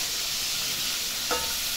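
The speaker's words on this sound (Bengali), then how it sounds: "এভাবে আমি পুরো পটলগুলো ভেজে নিই।" Stuffed pointed gourds (potol) fry in oil, producing a soft, even sizzle with a brief stirring scrape near the end, no voices.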